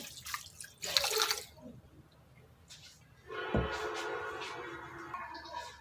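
A cup of water is poured into a shami kebab mixture: a close splash and steady trickling pour following brief dripping and clatter.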